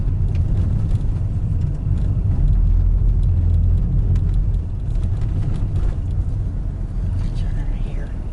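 A small car turns around on a sandy, sugary dirt road in Interlachen, Florida, with a steady low engine and tyre rumble throughout and people talking over it.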